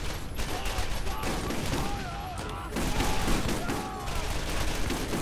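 Gunfire in the video game Borderlands: dense, rapid volleys of shots and impacts crackle almost nonstop at a steady, loud level through the whole stretch.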